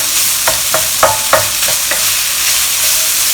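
Minced meat sizzles in a pan for egg tofu while a utensil chops and stirs it in a series of quick, close scraping taps.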